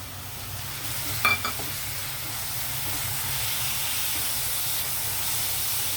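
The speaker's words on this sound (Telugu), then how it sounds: "ఆయిల్ హీట్ అయ్యింది, ఆనియన్ వేసేద్దాం." Onions hit hot oil in a pan and fry with a steady, close sizzling hiss throughout, with a brief clatter as they go in.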